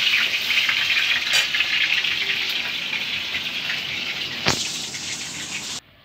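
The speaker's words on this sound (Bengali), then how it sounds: "আর কড়াতে মাছ দিয়ে তেল দেখাচ্ছি" Fish frying in hot oil in a wok gives a steady, loud, close sizzle, with a couple of sharp spatter pops, before the sound cuts off abruptly near the end.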